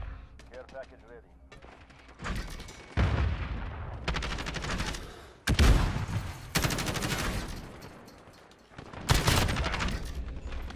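Odin rifle fire in Call of Duty Modern Warfare on the cramped Shipment map, team deathmatch: heavy, rapid automatic bursts come in several loud volleys separated by short pauses, with speech faintly underneath.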